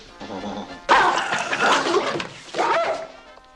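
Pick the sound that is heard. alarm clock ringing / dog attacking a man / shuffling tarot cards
dog attacking a man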